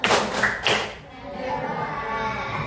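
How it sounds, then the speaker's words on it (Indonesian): A group does the rhythmic 'tepuk salut' clap in a classroom training session, with a couple of sharp bursts of claps up front before fading into murmuring voices. "Ayo kita beri tepuk salut lagi."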